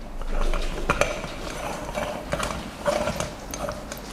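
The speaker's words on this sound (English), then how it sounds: "I'm going to put my basket into the boiler and then lock the pot on" A moka pot being assembled, with the filter basket set into the boiler and the top screwed on, giving close, repeated metallic clicks, scrapes and ratcheting twists with no talking.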